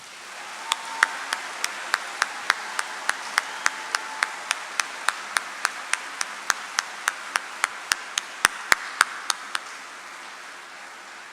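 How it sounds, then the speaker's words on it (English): Audience clapping for soldiers of the 282nd Army Band at a holiday concert in the Koger Center, heard as a thin run of evenly spaced claps, fairly close, fading out after about ten seconds. "Please join me in a round of applause for these fine patriots."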